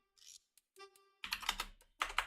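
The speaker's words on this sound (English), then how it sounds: "my keyboard." Keystrokes on a computer keyboard come in short bursts, a few isolated taps followed by two dense clusters of rapid typing, close and fairly quiet, with no talking.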